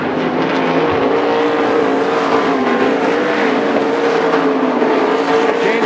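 Loud, continuous roar of sprint car engines at Willamette Speedway droning at high revs, a steady mechanical whine filling the whole stretch without pause.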